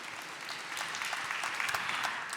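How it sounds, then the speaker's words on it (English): Steady applause from a conference audience for a panelist at an international integration conference, dense clapping that holds throughout at moderate level with faint voices mixed in. "A round of applause to Laura, please."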